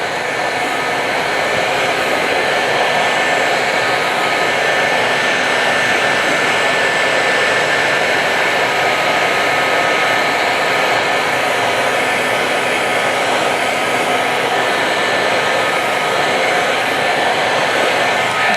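Heat gun blowing hot air over a freshly poured epoxy kitchen countertop, a loud, steady whooshing roar with a faint whine that holds unbroken from start to finish, close to the listener and alone without talking.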